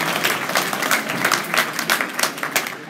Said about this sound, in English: Round of applause if you like to listen to music. Round of applause.